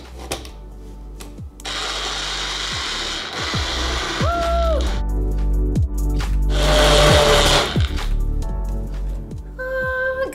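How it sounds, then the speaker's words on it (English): A countertop blender whirs through a fruit smoothie in loud, sustained bursts, its motor pitch rising and dipping as the blades chew through the contents, with clicks and clatter around the runs. "put the lid on and blend this bad boy up"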